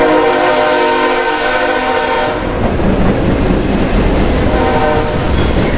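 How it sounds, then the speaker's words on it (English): A train horn blares with a sustained chord, then the rumble and rhythmic clatter of the train rolling past close by, loud and steady. "Oh, there's a train. There's a train, y'all."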